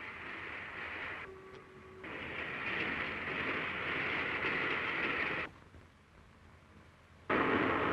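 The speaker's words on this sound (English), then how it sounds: "Train hurries northward." A steam train hurries northward along the rails through open country, a steady loud rumbling roar that briefly cuts out and then returns even louder.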